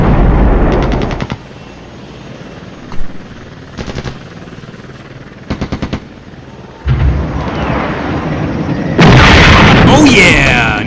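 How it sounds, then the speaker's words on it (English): Artillery fire and explosions in the wargame Flashpoint Campaigns: short clusters of rapid popping shots, then heavier booming blasts that swell into a loud, sustained rumble near the end, with a voice partly underneath. "Here comes our artillery."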